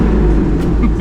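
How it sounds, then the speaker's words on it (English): Chevrolet Corvette ZR1 engine idling loud and deep in a garage, a brief low rumble with a slight lift in revs near the end. "Give you a couple little revs here"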